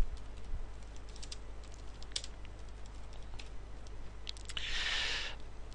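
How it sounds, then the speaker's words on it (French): Close, quiet tapping on a computer keyboard while entering text into a spreadsheet, with scattered clicks of individual keys over a low electrical hum, followed by a short burst of faster typing near the end, with no talking. "je tape directement Évolution des points"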